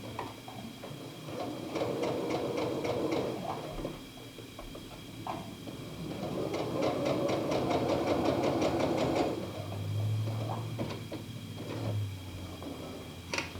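A sewing machine stitches pajama fabric in rapid mechanical bursts, running for a few seconds, pausing, then running again, with a low hum and light clatter close by.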